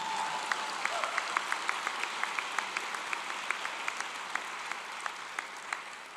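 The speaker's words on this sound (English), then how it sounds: "But yes, clap for yourselves." Graduates at a university spring commencement ceremony clap for themselves, a steady broad wash of applause with sharp individual claps and a few whoops cutting through.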